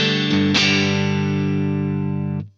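Electric guitar through a Soldano SP77 amp without the clean boost: two distorted chords struck in quick succession, then one held and ringing loudly for about two seconds before being cut off.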